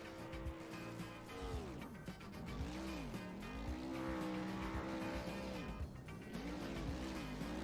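Race cars revving and spinning their tires in burnouts in a VR racing game at Barber Motorsports, with loud, sustained engine drones rising and falling in pitch and continuous tire squeal throughout.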